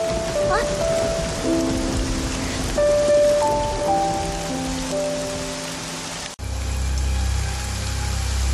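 Heavy rain with wind on a stormy night pours steadily and loudly throughout, with sustained musical tones layered over the downpour and an abrupt shift in the sound near the end.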